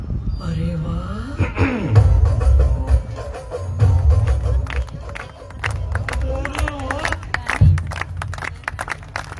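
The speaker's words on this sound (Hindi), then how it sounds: "जोरदार ताली थी" A crowd at a live event at Hotel Five Flowers on DCM Road in Kota applauds and cheers through the whole stretch, with scattered claps and a steady murmur of voices. It is fairly loud and sustained.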